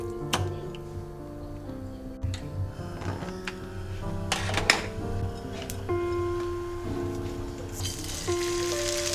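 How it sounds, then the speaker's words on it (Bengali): Cornflour-coated chicken breasts fry in a pan for a creamy mushroom chicken, with a soft crackling sizzle and scattered sharp ticks and pops over a low tonal background hum, no voices. "এটাকে নিয়ে এবার প্যানে ভাজতে চলে যাব।"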